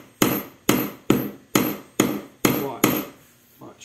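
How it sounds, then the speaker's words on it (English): A hammer drives a nail while a bird feeder is built: seven sharp, evenly spaced close blows, each ringing briefly, with a faint voice at the very end. "Just gotta hit the nail. Hit it."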